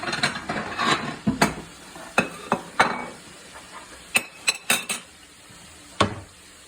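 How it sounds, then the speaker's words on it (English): Butter and corn stirred in a cooking pot, giving a run of sharp metallic clanks and scrapes of a utensil against the pot, spaced irregularly and heard close up with no talking. "I'm just stirring the butter up because I want the butter to melt"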